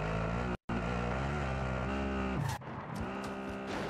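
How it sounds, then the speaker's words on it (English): Vehicle engine and tires in Call of Duty Warzone, a loud sustained roar with tire squeal that cuts out briefly, then a rougher, tumbling rush as the car rolls over. "this guy's ghost rolled the car"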